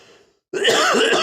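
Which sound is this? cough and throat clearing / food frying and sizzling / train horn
cough and throat clearing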